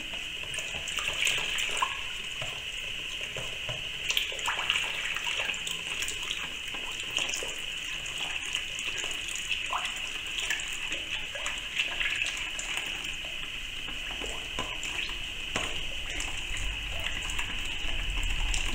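Dissolved salt mixture is poured into dish detergent, a steady wet splashing stream running continuously at moderate level, with no voices over it.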